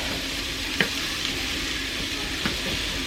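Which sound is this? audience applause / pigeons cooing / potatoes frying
potatoes frying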